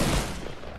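Video game gunfire crackles in a brief, dense burst of rapid shots, loud and close, with no talk over it.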